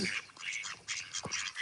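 Ducks quack in short, close, overlapping bursts, a mother duck with her ducklings stirring together outdoors, the calls busy and nearly continuous with no talk.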